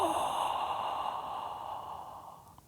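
A long, soft exhaled "haw" breath drawn out through nose and mouth during Kriya yoga breathing practice, close and steady, slowly fading over a couple of seconds.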